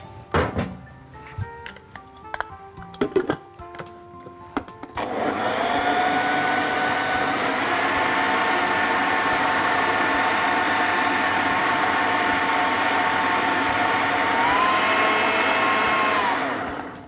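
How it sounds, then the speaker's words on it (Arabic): A few clunks and knocks, then a kitchen blender mixing jelly for strawberry and chocolate mousse starts up and whirs loudly and steadily for about twelve seconds before stopping. "دلوقتي هنحط كله مع بعضه بقى في الخلاط"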